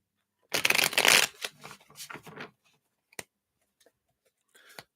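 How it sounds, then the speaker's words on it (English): Tarot cards are shuffled close up in a quick riffling burst, followed by a few soft taps and card clicks in a quiet room. "Let's give these a shuffle here."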